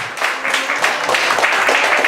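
A church congregation applauds during a sermon, a dense wash of many hands clapping steadily at a moderate distance, with no voices standing out above it.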